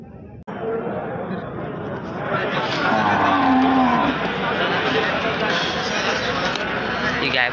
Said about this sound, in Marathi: आपण आज म्हशींचा व गायींचा बाजार बघणार आहोत